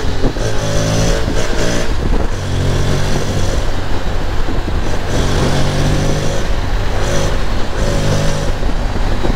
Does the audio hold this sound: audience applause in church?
no